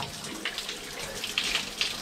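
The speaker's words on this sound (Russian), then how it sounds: "Все, в душ." Shower water running steadily in a bathroom after a day of bicycle touring in Austria, a continuous hissing spray with slight splashing fluctuations, fairly close and alone.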